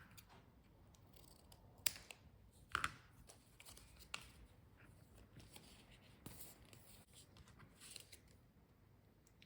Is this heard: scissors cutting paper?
yes